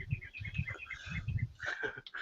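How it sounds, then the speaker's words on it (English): Bird-like chirps and tweets in a fantasy game scene, several short high calls repeating over a low murmuring background, moderately near and steady throughout. "Where are all the birds coming from?"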